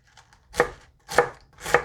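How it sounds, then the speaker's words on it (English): Three crisp knife chops through cabbage on a board, evenly spaced about half a second apart, close and clear with no talking. "so I'm chopping up my cabbage."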